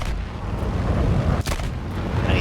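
Rapid aircraft cannon and machine-gun fire from a Lavochkin La-7 in War Thunder air combat, a dense continuous roar of shots and impacts with a brief dip in the middle, loud and steady throughout.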